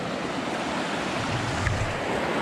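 A river runs past a natural hot springs campsite in Colorado, a steady, dense rush of flowing water with wind noise on the microphone, continuous and fairly loud with no talking.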